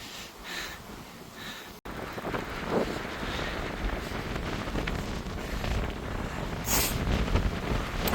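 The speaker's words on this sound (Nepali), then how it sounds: "कस्तो हावा चलेको" Strong wind buffets a cyclist riding a shared path in cold weather, producing a continuous loud roaring rumble that stays close and unbroken.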